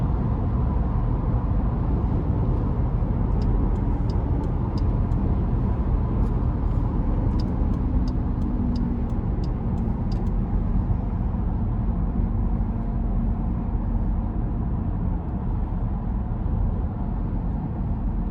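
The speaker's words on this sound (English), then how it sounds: "And road noise here is very good." Steady low road and tyre rumble inside a 2026 Dodge Durango GT Blacktop RWD while driving, a constant moderate cabin drone with faint ticking clicks partway through and no talking.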